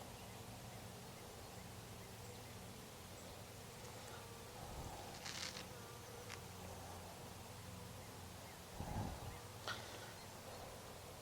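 Honeybees buzzing at an open hive during inspection, a faint continuous low hum with a few brief louder buzzes as individual bees pass close.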